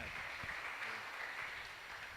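Applause from a church youth gathering, a faint, distant, continuous patter of many hands clapping together, with no distinct individual claps.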